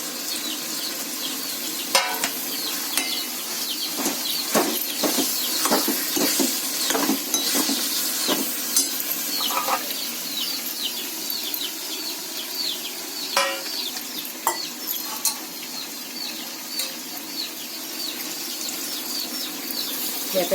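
Dried sea prawns (karpaar) dry-fry in a pan without oil, giving a steady soft sizzle broken by repeated sharp scrapes and clicks as they are stirred, with no talking.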